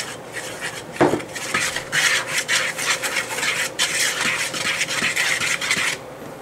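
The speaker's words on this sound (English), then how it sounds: "Keep going back and forth until everything's mixed in." Spaetzle batter of eggs and milk being mixed in a bowl, a close, continuous scraping and rubbing of a utensil working back and forth, with one sharper knock near the start.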